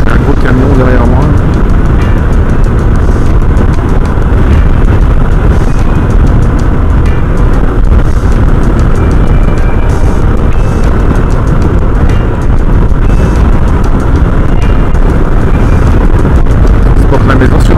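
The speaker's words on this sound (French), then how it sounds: "j'ai un gros camion derrière moi" A large truck passes close behind on a New England road, a steady roar of engine and rushing wind buffeting the microphone throughout, with a speaking voice running over the din.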